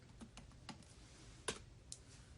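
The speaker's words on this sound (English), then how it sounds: "I'm typing in my freaking password with all caps" A laptop keyboard clicks as a password is typed, with scattered individual key taps and a couple of sharper strikes, quiet and close with no talking.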